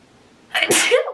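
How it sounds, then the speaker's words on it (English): A single loud, sharp sneeze up close, preceded by a brief quiet intake of breath. "I have to sneeze, hold on."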